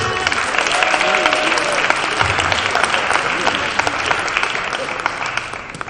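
An audience at a Martin Luther King Jr. celebration service applauds loudly and steadily. The clapping stays dense and sustained throughout, with faint crowd murmur underneath.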